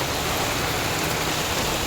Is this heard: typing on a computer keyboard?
no